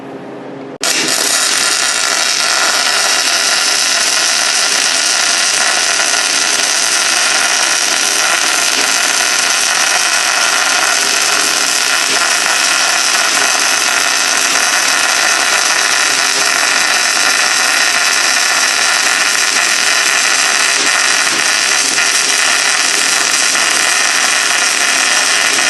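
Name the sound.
GMAW spray transfer welding, final stringer pass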